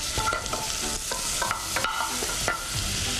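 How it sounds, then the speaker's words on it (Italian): Rice toasts in melted butter in a pot over high heat, with a soft steady sizzle and repeated scraping stirs of a spoon, and no voices. "iniziamo a tostare il riso a fuoco vivace per un minutino e mezzo"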